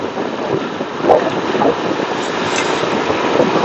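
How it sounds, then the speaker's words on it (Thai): Wind roars steadily while riding a motorcycle at about 80 km/h, heard through a BLAISE GT1 Bluetooth helmet headset: a loud, continuous broadband rush with slight gusty swells and no voices. "เสียงลม"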